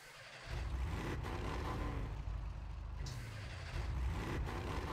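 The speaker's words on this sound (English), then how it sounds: "The way that engine sound, I wouldn't even change it for real." Engine of a car in a video game roleplay, a steady, low vehicle rumble that holds for several seconds at moderate level with no talking.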